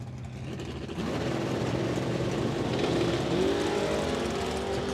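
A 1982 Camaro and a 1967 Pontiac Beaumont launching side by side at a drag strip, engines roaring steadily and building in pitch at a moderate distance.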